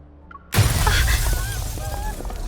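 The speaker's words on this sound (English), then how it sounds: "Glass from an upper floor of the building suddenly shatters, and the crowd below is startled." A glass window bursts on an upper floor of a building in the video game Love and Deepspace, a sudden loud crash after near silence, then a spreading wash of shattering debris with bright tinkling pieces that fades slowly.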